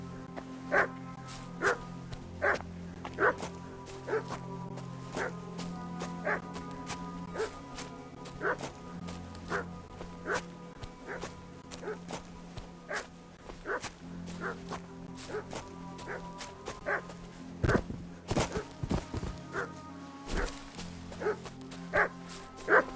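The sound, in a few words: dog barking, from video game Kingdom Come: Deliverance 2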